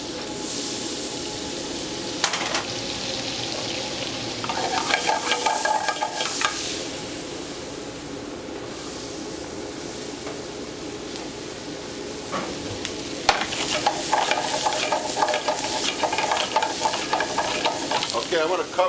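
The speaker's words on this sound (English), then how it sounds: "I'm going to add some more garlic." Garlic sizzling and frying in a pan for French onion soup with beef, a continuous crackling hiss with bursts of stirring and scraping, fairly close and with no talking.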